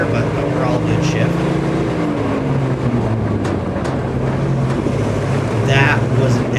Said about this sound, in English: The only noise you heard was the tailgate rattling